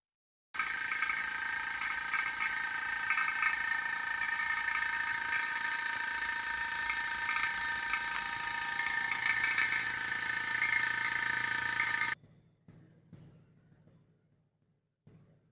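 A car engine idles with its AC compressor engaged, a steady near hum with tonal whine and light rattle, cutting off abruptly toward the end.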